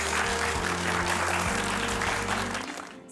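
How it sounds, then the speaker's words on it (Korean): Audience applause for a lecturer at a televised lecture, a dense, steady burst of clapping over a low, sustained musical tone, fading toward the end. "오늘 좋은 말씀 또 좋은 도전 주신 대표님께 큰 박수로 부탁드립니다"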